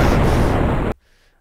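Explosion in a video game escape room, a loud roaring blast that holds for nearly a second and then cuts off abruptly into near silence.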